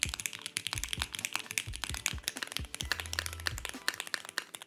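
Custom mechanical keyboards, Vega and Polaris models among them, are typed on rapidly up close, giving a dense run of crisp clacky keystrokes with deeper thocks and a brief spacebar-like rattle.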